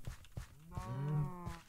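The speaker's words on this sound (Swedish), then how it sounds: "Är det en ko? Ja, det är en ko." A cow in the video game Minecraft gives a single close, drawn-out moo, framed by soft footstep-like thuds before and after.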